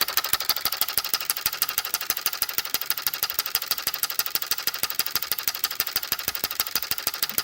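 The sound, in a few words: electric beam engine running, speed increasing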